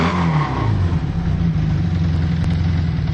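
A 440 motorcycle engine revs and idles close by, a rough, throbbing note that rises briefly at the start and then settles into a steady running rumble.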